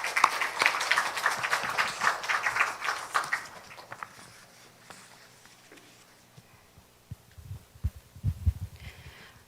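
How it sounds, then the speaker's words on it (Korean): Church congregation applauding in a Korean church service, a few seconds of scattered clapping in a large room that fades out, followed by quiet shuffling and low thumps. "자, 박수하십시다"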